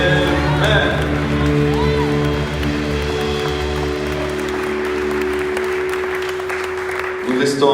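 A church congregation applauds and cheers loudly at a worship service, with sustained clapping and shouts layered over steady organ or keyboard tones, and voices mixed throughout.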